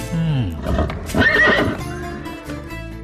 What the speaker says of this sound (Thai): พระเจ้าสามะ มีม้ามงคลอยู่ตัวหนึ่งชื่อ ปันทวะ มีรูปร่างสวยงามมาก